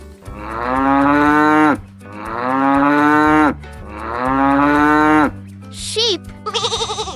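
A cow lets out three long, loud moos in close succession, each deep and drawn out, followed by a brief higher bleat-like call at the end.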